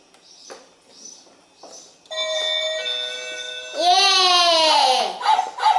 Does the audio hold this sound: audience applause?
no